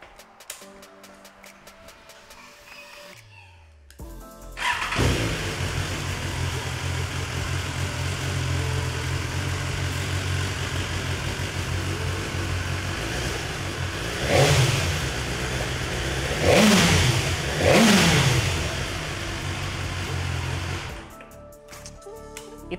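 A BMW S 1000 R inline-four motorcycle idles with a steady hum, then blips the throttle in several sharp revs that rise and fall quickly. The engine is close and loud, and no one speaks over it.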